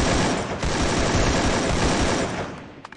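A dense burst of rapid automatic AK rifle fire in the game Free Fire, loud and continuous for about three seconds, with a couple of sharp pops at the end.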